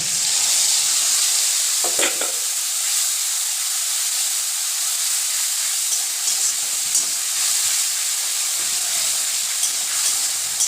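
Spice masala is dropped onto reddened onions in a hot pan for a thin spicy fish curry, letting out a loud, continuous hissing sizzle with a brief clatter near the start, and no voices.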